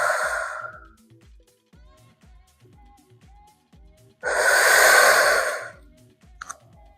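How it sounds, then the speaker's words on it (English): Ujjayi breathing during a power and stretch yoga session: a long audible oceanic exhale, quiet low breathing, then a second strong throaty breath, close to the microphone with no talking. "Using that Ujjayi breath."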